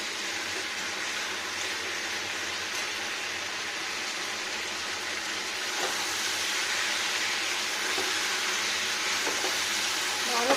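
Cauliflower roasting in hot oil in a pan for a vegetarian dish gives off a steady, even sizzle and hiss that swells slightly toward the end, with no voices over it.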